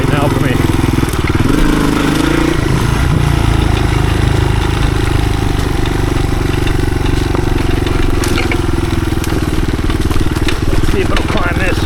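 A 1983 Honda XR200R trail motorcycle chugs along in second gear through the woods, its engine loud and steady up close, while a rider talks over it.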